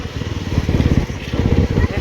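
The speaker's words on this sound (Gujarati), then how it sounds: "મારી બાઇક લઈને જવાનું છે." An HD Rockstar motorcycle rides along with a steady, close engine drone and rhythmic low-end pulsing throughout, while a voice talks over it.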